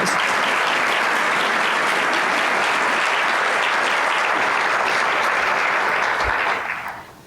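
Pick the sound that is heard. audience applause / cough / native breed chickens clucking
audience applause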